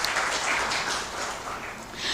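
A conference audience at a Pakistani entrepreneurship event applauds for Iqbal Saab, a steady dense wash of many hands clapping that keeps up for a couple of seconds, swelling slightly toward the end.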